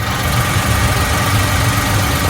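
A car engine runs steadily at close range during a wheel bearing road test, a loud, even hum with a faint vibrating drone.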